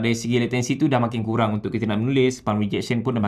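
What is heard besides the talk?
No distinct noise like a dog, phone or traffic.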